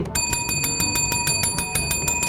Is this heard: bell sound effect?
yes